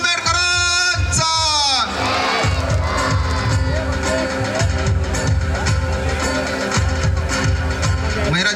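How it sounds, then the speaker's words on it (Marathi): A crowd at a public event for an MLA, Dr. Rahul Patil, cheers and shouts loudly. Raised voices open the scene, then a steady rhythmic thumping, like drums, carries on under the noisy crowd. "एकदा जोरदार टाळ्या"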